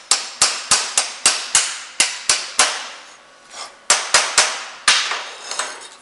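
A hammer taps a metal engine mount into place against a plate for a Cummins diesel conversion, sharp, ringing taps, about a dozen blows in uneven bursts, each with a brief metallic decay, close by.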